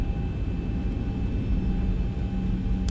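Boeing 737-800 jet engines in the X-Plane 11 flight simulator spool up for takeoff, giving a steady, loud low roar with faint tonal whines that holds throughout without any talk.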